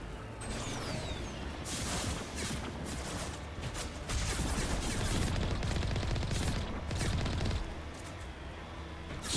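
Sniper fire from pirates in Mass Effect during a firefight: repeated sharp shots and bursts crackling through a dense, steady battle din, with no talk over it.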